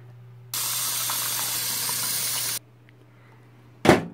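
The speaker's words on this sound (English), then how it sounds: "and fill with hot water." Hot water pours into a bowl of bone broth cubes, rushing steadily for about two seconds in a loud even hiss, then stops, followed by a brief clunk.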